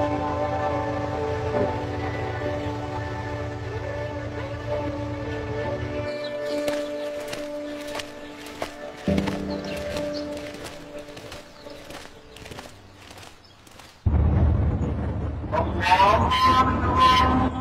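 A train running along the tracks through Patiya, with a steady rumble and clattering rhythm, a sustained horn blast, then a louder rush of carriages passing close.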